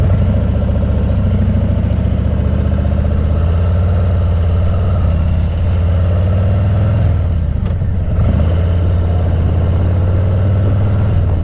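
A Harley-Davidson Heritage motorcycle engine idles steadily up close, a loud continuous low rumble that runs the whole time, with a brief dip and rustle just past the midpoint.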